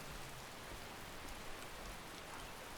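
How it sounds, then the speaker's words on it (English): Light rain weather from a Skyrim Special Edition mod hisses steadily, an even patter of drops on surfaces with no voices, constant and soft throughout. "So let's test out the light rain mod now."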